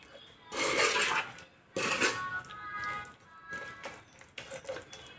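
Kabsa masala is mixed with salt in a bowl, heard as bursts of close scraping and stirring with clinks of a spoon against the bowl, separated by short pauses.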